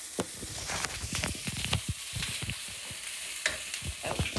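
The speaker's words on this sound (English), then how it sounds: "Then you just want to stir up the rice." Rice and butter are stirred in a pan on the stove, giving quiet scraping and gentle sizzling with irregular clicks of the spoon against the pan, heard alone and fairly close.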